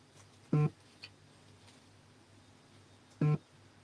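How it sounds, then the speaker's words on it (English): Two short electronic beeps, about three seconds apart, each brief and fairly loud over a quiet room background, with a tiny faint blip between them. "that is my phone just beeping there"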